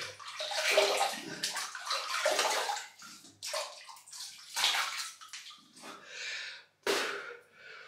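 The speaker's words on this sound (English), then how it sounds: "gotta wet the face" Water splashes and sloshes in a sink as hands scoop it onto the face before a wet shave, a close series of irregular splashes with soft breaths and short pauses between.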